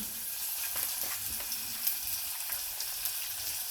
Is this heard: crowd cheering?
no